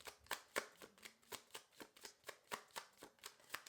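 Tarot deck being shuffled by hand, a close, quiet run of about a dozen crisp riffling bursts in an even rhythm, with no talking.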